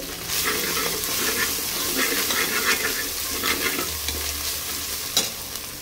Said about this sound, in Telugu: ఆ స్మెల్ వెళ్ళేంత వరకు లో ఫ్లేమ్లో పెట్టుకొని మనం బాగా ఫ్రై చేసుకోవాలి